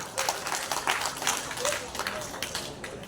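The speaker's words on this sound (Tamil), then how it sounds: "அதற்கு ஒரு கைத்தட்டு கொடுக்கலாம் ஐயாவுக்கு" An audience at a 90th birthday celebration for a Tamil poet claps for him, a fairly quiet, scattered patter of hands heard from some distance, with a few voices murmuring underneath.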